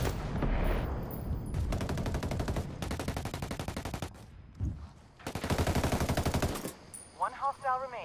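Automatic weapon fire in the video game Ghost Recon Wildlands, several loud sustained bursts of rapid gunshots separated by short pauses, close and dense, with a brief voice near the end.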